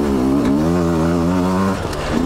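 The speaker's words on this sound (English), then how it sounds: "Listen to that sucker grunt. This is a freaking capable bike," A 2020 Beta 200RR dirt bike engine grunts loud and close in second gear, a steady harmonic drone that holds, then dips briefly near the end.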